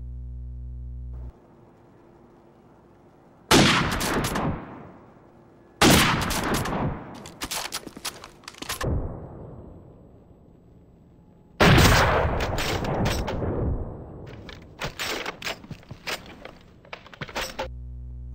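Gunshots from a shooter video game, fired in several loud bursts and volleys with quiet gaps between them, no voices.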